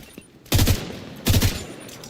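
Gunfire in the video game Starfield: two loud, dense bursts of rapid shots about three-quarters of a second apart, each with a heavy low thump, over faint background game noise.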